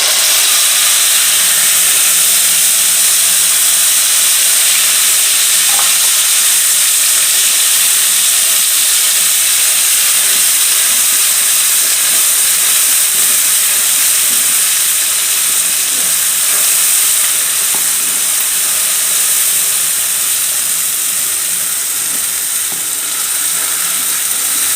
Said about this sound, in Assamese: মই এতিয়া সৰিয়হখিনি ইয়াত দি দিম।